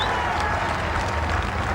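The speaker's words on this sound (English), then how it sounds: "what a wonderful reception he's receiving from the crowd here on Tyneside" A crowd on Tyneside applauds Mo Farah's win at a two-mile race in Newcastle, producing a dense steady wash of clapping and cheering throughout, with a commentator talking over it.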